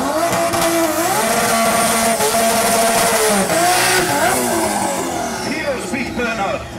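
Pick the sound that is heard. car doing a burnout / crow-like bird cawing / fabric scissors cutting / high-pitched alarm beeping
car doing a burnout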